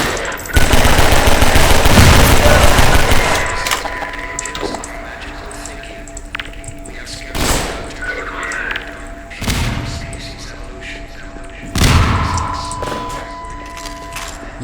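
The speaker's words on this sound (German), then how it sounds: "gehen wir mal mit Granaten aufsprengen" Grenades explode in the video game Half-Life 2: a long, loud booming blast opens, followed by three more separate explosions spaced a few seconds apart, with quieter game noise between them.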